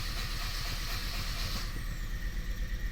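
The starter motor of a 2017 Kia Sorento 2.0 turbo keeps cranking after the engine has died during an injector kill test, giving a quiet, rapid, even pulsing.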